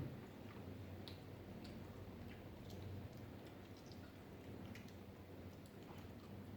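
Steady soft rain falling on a house in rural Thailand, a faint continuous hiss with scattered light ticks of drops, heard alone without talk.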